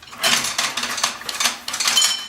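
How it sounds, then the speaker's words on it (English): Clattering metallic clanks and rattles from a small hand-operated press, irregular bursts of clicking and scraping, close and fairly loud with no talking. "this is a little printing press"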